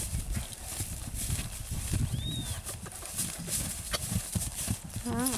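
Hooves of a Pampa horse clip-clop in a steady, close rhythm on firm ground, with people talking over the footfalls and a brief high whinny partway through.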